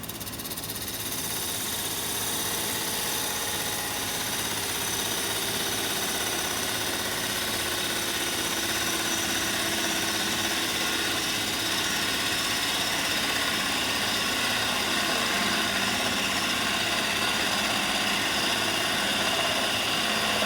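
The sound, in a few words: wood lathe cutting with bowl gouge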